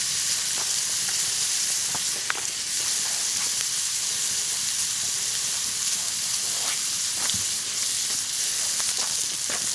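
Rib-eye steak and seafood frying and sizzling in butter over a hot campfire, a steady dense crackle with a few sharper pops, close and continuous, no talking.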